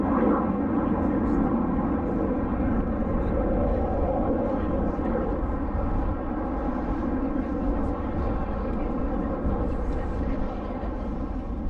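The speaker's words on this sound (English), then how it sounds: "Smoking red is Red 5, Flight Lieutenant Dave Simmons" Red Arrows jets, including Red 5 trailing red smoke, roar over the RIAT 2022 airshow in a loud, continuous, steady engine rumble lasting the whole stretch, with a voice faintly present.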